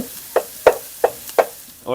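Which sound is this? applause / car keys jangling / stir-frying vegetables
stir-frying vegetables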